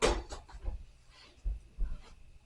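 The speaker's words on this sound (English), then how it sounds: "Next up, we take a drawer." A wooden night stand drawer held with cam locks is pulled out, giving several soft thumps and knocks spread unevenly across a couple of seconds. The sounds are close and fairly quiet, with no talking.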